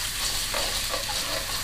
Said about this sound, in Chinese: 炒肉多余的油倒回锅中，再用这个油煸香泡椒姜蒜末